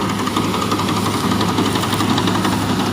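A John Deere 5405 CRDI tractor engine runs during straw work with trolleys, giving a steady, loud, close diesel rumble with a knocking vibration that holds without a break and without talk.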